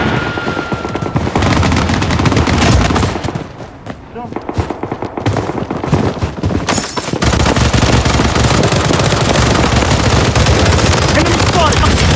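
Gunfire in the mobile shooter Blood Strike, loud, continuous automatic bursts and rattling shots that run almost without pause, with a brief lull in the middle, layered with game voice callouts.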